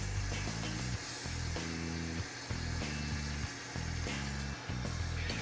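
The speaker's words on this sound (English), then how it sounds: "now with the pumps running, we're gonna double check our system for leaks" Electric fuel pumps hum steadily in a return-style fuel system on a car project, a close, continuous whine with a few brief dips in level, no talking over it.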